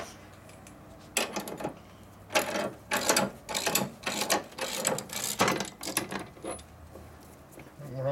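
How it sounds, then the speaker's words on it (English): Big ratchet working on a 1941 74ci Knucklehead motorcycle during a bobber build, giving a run of close, loud clicking and rasping bursts in uneven rhythm with short pauses between strokes. "Big ratchet."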